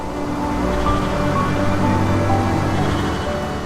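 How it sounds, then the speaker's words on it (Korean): Wind and sea waves around Mont-Saint-Michel at high tide, a steady, loud, broadband rush of wind and surf with no distinct breaks and no voices. "바람과 파도 소리가 주변을 채우고"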